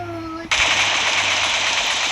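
Video game ultimate gun lets loose a dense, continuous burst of rapid automatic fire after a brief tonal lead-in, loud and sustained with a harsh, noisy character.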